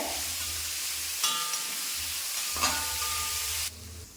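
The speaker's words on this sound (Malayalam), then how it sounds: "സവാളയ്ക്ക് നമ്മൾ ഇച്ചിരി ഉപ്പിട്ട് കൊടുക്കുവാണ് പച്ചമുളക് ഉപ്പ് ഇനി ഇത് വഴന്ന് ഒന്ന് മൂത്ത് വെന്ത് വരട്ടെ" Sliced onions with green chili and salt sauté in a pan, giving a steady close frying sizzle with a couple of brief stirring scrapes, then the sound drops sharply near the end.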